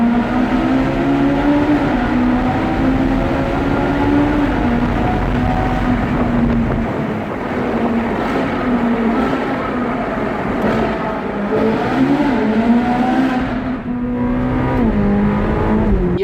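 A car runs through a tunnel with a loud, close engine drone whose pitch rises and falls with shifts, wrapped in echoing wind and road roar throughout.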